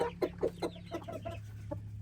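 Hens cluck in short, soft bursts inside an ecological chicken coop where a rooster is kept with them, a low steady hum running underneath the fairly faint calls.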